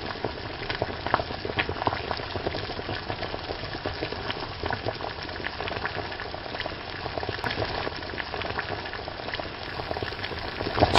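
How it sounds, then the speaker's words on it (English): Beef-style stock for French onion soup simmering all day over very low heat, a steady bubbling, crackling wash with faint pops throughout, close and continuous, with no talking. "So this stock is cooked all day, very low heat, much like we do with the beef stock."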